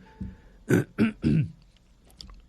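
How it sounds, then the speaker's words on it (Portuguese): Three forceful throat-clearing bursts in quick succession, close and fairly loud, followed by quiet with a few faint clicks. "pigarro, é assim mesmo"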